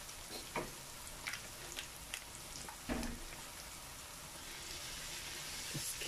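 Beef mince frying in a pan for a curry, a steady low sizzle with a few sharper crackles and stirring scrapes, fairly quiet and with no talking.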